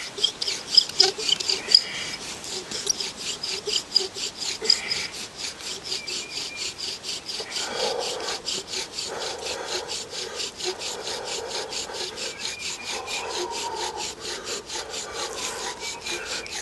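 A bow drill made with a shoestring and knife spins a wooden spindle against a fireboard, producing a steady rhythmic back-and-forth rasping squeak, close and moderately loud, repeating evenly throughout.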